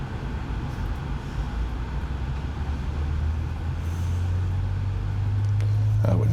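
A Boeing 737 engine spools up during a start in a full motion simulator, a steady rumbling hum with a low tone that rises and strengthens toward the end, with some faint background noise.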